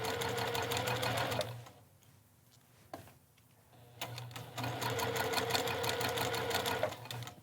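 A sewing machine stitches the neckline of a purple double gauze blouse, running steadily, pausing for a few seconds with faint handling sounds, then starting again close by at an even pace.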